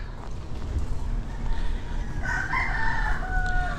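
A rooster crows at a chicken breeding farm in Tayud, a moderately distant call rising over steady outdoor background noise in the second half.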